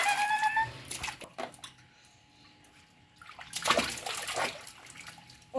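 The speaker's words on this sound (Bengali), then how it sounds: "চলুন এবার স্নান করিয়ে দিই ছেলেকে" Water sloshes in a filled tub as a small boy is bathed at home, with splashy bursts at the start and near the end around a quieter stretch.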